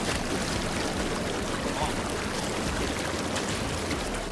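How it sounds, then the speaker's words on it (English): Intex PureSpa hot tub bubble jets running steadily, a dense, even rushing hiss of air and churning water that holds at constant loudness throughout. "And then this button here is for your bubbles."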